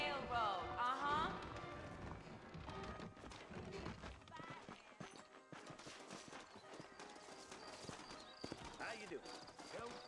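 Horse hooves clip-clopping at a steady gait in Red Dead Redemption Remastered, a rhythmic patter of hoof falls under character dialogue, with a brief whinny early on.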